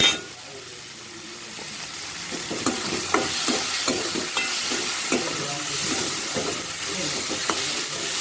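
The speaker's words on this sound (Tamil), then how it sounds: "இதெல்லாம் நல்லா வதங்கட்டும்." Tomatoes and vegetables sautéing in a pan with a pinch of turmeric, a steady close sizzle broken by repeated scraping stir strokes throughout.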